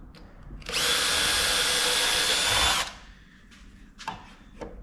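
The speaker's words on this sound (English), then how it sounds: "I have the depth of my drill set so that when I'm all the way down, it still won't go into the top" A power drill bores into wood for bookshelves, with a steady loud whine lasting about two seconds, then a few faint knocks and taps.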